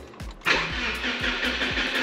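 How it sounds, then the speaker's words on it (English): A Subaru Legacy GT wagon with engine faults and smoke cranks over briefly, then fires and settles into a loud steady run with a pulsing low rhythm, close by. "I'm gonna go ahead and start the car up"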